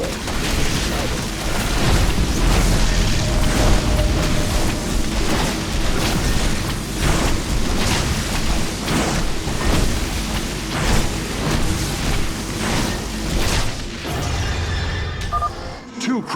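Crystals are destroyed in the video game StarCraft 2, giving dense, continuous booming explosions and crackling battle noise, loud and sustained throughout with layered game effects.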